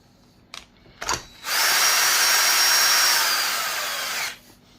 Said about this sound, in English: If you're confident with power tools, use them.